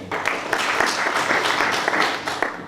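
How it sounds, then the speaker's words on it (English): Steady applause from an audience at a university conference session honours a presenter, a moderately loud wash of clapping with no talking. "Please, a round of applause for her."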